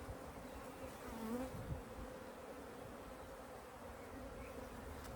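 Honeybees buzzing steadily around an open top bar hive during an inspection, a dense continuous drone close by with a few louder passes of individual bees.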